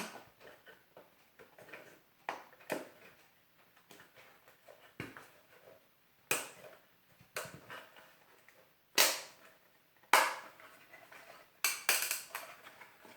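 Plastic storage box for the Joan of Arc board game from Time of Legends being snapped shut, giving a run of sharp clicks and snaps of rising loudness with faint handling rustle between them, close and without speech.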